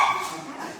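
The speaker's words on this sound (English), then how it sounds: "They got to bark at people walking by." Dogs bark at passersby outside, a short yelping bark heard at moderate distance, brief and somewhat muffled against quiet room tone.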